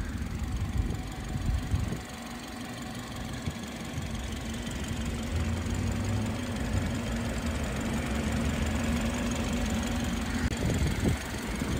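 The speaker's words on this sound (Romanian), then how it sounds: "Așa sună motorul la BMW-urile de generație nouă." A BMW 3 Series (F30) 2.0 petrol engine idles with an even, steady hum and a faint mechanical ticking that stays constant throughout.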